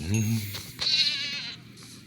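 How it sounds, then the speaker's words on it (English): A Minecraft Bedrock Edition goat bleats in a few quavering, nasal cries, close and clear, with faint game ambience around it. "You know the rules, no goats allowed."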